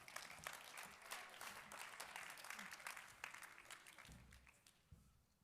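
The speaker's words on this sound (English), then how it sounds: "Give her a round of applause." An audience at a mentalist show claps enthusiastically, a dense patter of applause that gradually thins out, with a few voices underneath.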